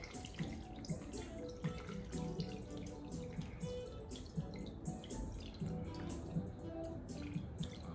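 Homemade chili oil strained through a sieve, giving a steady close trickle and patter of liquid with small drips and splashes throughout, no talking.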